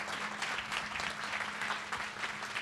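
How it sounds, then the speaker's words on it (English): Steady applause from a lecture audience for an introducer at a math talk, a dense continuous patter of many hands with a faint low hum underneath. "please give her a huge round of applause for doing this for us"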